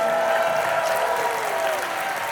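A convention crowd applauds the judging panel at a dance competition, a dense, even wash of clapping sustained throughout.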